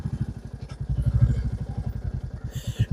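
A motorcycle rides along a dark road, its engine giving a steady, close, low throbbing pulse throughout, with a brief rise of higher noise near the end.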